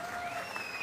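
An audience at a public government welfare event claps together in a steady, dense wash of applause, moderately distant and continuous throughout.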